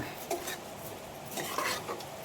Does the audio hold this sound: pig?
no